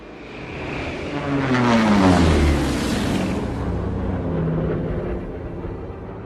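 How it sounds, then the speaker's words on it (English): A propeller airplane drones closer, its engine growing louder and shifting in pitch as it passes, then fading into a steady hum. "You hear that? Yeah, I think that's our plane."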